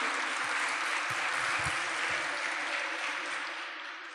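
A church congregation gives a round of applause during a sermon, a soft continuous wash of many hands clapping that tapers off slightly at the end.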